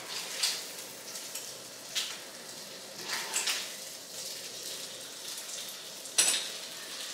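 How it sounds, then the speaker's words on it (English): Turkey bacon sizzles softly in a pan as it is flipped, a faint steady crackle broken by a few sharper spatters and light clinks. "one second, let me flip this bacon."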